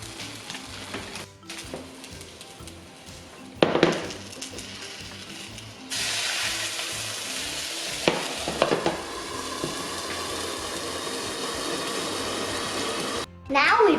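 Loud sizzling and hissing from a hot frying pan of pan-fried dumplings, with a sharp surge midway as hot water hits the heat, crackling steadily to the end.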